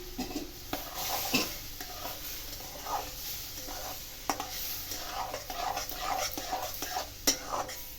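Semolina being stirred with milk in a pan for a peda sweet, with repeated scraping and clinking strokes of a spoon against the pan over a soft sizzle, close and irregular, no talk.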